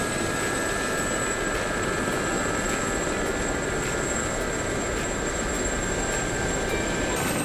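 Helicopters in the DCS flight simulator game, a steady dense rotor and turbine roar with a faint regular beat of blade thumps and a high whine, loud and continuous without talk.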